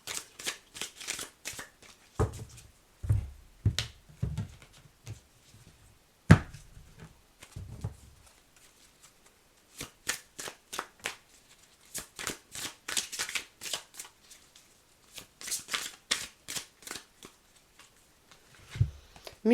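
Tarot cards are cut and riffle-shuffled in quick bursts of crisp flutters and soft slaps, close and fairly quiet, separated by brief pauses.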